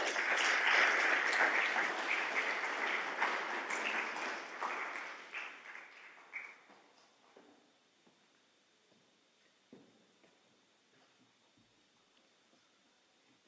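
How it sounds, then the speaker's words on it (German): An audience at an award ceremony applauds a speaker called to the stage, loud sustained clapping that thins out and fades to scattered claps and a quiet room. "Lieber Michael, ich bitte dich auf die Bühne mit einem herzlichen Applaus."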